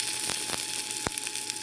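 Ginger hitting hot oil while stir-frying tofu and vegetables gives a steady, moderately loud sizzle with a few brief crackles and pops, with no talk.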